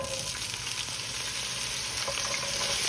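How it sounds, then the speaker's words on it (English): Boiled potatoes sizzle and crackle in a hot skillet, a loud, steady fry close up with faint stirring and no voices. "I wanna get my potatoes cooking."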